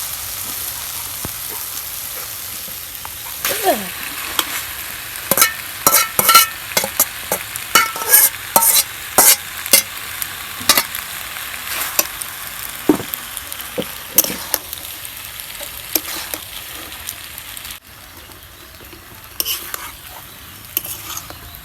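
Food is stir-fried in a pan, with clattering spatula strokes in uneven bursts over a soft sizzle, close-up and fairly loud, easing to quieter frying toward the end.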